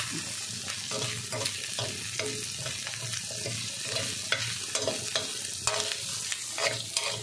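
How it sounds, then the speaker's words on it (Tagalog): Meat sizzles steadily in a hot pan while being stirred, sautéed with moringa, a close, continuous frying hiss with scraping clicks of a utensil and no talking. "Gisahin muna natin sa yung karne. Itosta natin ng konti"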